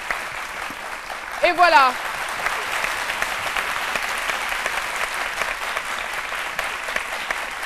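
A TV studio audience applauds a guest with sustained clapping, while a presenter speaks briefly over it and a short rising electronic jingle sounds early on.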